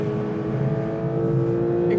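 Porsche 911 GT3 2022 with its 4-litre flat-six revving hard toward 9,000 RPM on a track, a loud, close, steady high-pitched engine wail with strong harmonic tones.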